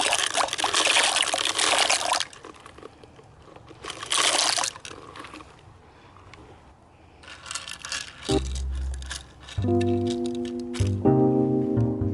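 Small river pebbles pour into a glass birdbath in rattling, trickling bursts separated by pauses, loud and close, with no voices.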